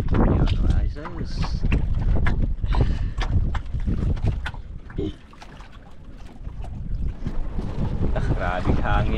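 Strong sea wind gusts buffet and rumble loudly against the microphone on a grouper fishing trip while people talk over the blustery, choppy roar.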